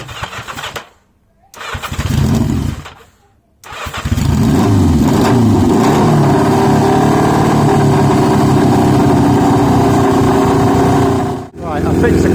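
A 1980 Yamaha XJ650 motorcycle engine cranks through two short starter attempts, then catches and runs loud and steady close by, revving and settling into a continuous drone.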